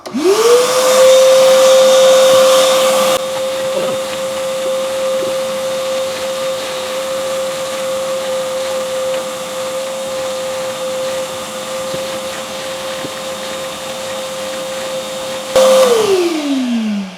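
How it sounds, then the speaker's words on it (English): A vacuum cleaner sucking filter media out of an aquarium sump whines steadily at close range, its motor rising at the start and winding down at the end, with a rushing suction roar throughout. "Now we just gotta vacuum all that media out."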